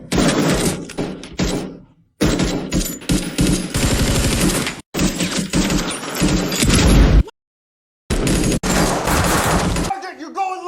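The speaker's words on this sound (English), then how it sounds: "the squad encountered more security forces and a gunfight broke out" A gunfight breaks out in a hallway between a squad and security forces: dense bursts of automatic gunfire and fusillades, loud and close, broken by brief silent gaps, with shouted voices mixed in.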